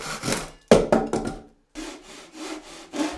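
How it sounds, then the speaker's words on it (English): A pull saw draws through a faux-wood beam in short rasping strokes, a few quick ones, a brief pause, then slower, smoother pulls, close and clear with no talk. "this saw cuts as I pull it toward me"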